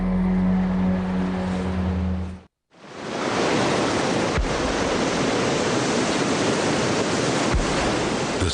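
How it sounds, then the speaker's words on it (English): Southern Ocean waves pound the cliffs at Dinosaur Cove in a steady, loud, broadband roar, broken by a brief drop-out early on before the surf noise resumes. "The Southern Ocean continues to pound away at the cliffs of Dinosaur Cove."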